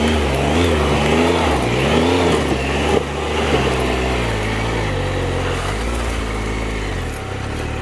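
Triumph Explorer XCa adventure motorcycle in off-road mode, its engine revving and pulling with rising and falling pitch, then settling into a steady loud drone.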